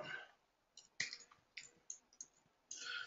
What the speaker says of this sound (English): Typing and looking down.